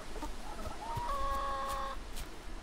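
A single video game chicken in We Harvest Shadows clucks and squawks in a short burst, fairly faint, against a low background hiss with a few soft knocks.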